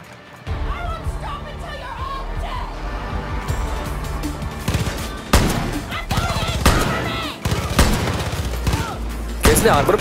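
Repeated gunfire in the video game Far Cry New Dawn, dense bursts of shots and impacts layered over a steady music and effects bed, loud and continuous.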